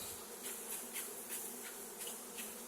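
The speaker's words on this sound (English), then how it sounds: "There's some bees flying around." Honey bees buzz steadily around an open hive, heavy with honey, with individual bees passing close in soft repeated swells over a constant hum.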